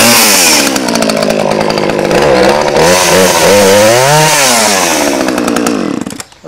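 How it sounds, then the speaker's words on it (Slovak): A one-handed arborist chainsaw roars loud and close while cutting wood, its engine pitch rising and falling as it bites, then abruptly cutting off near the end. "toto priamo arboristické píly, že je na jednu ruku, aby človek mohol, nemá ručku vzadu, ale má nad ťažiskom, aby mohol s jednou rukou píliť."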